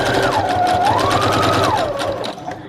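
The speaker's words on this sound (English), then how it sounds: "I'm going to show you how to do that on this sewing machine" A sewing machine stitching paper whirs steadily at close range, its rapid needle strokes running continuously, then slowing toward a stop at the end.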